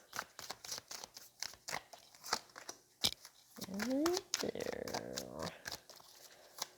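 Tarot cards are shuffled in quick riffling bursts, with crisp papery flicks and a brief crinkling run, close up and fairly quiet.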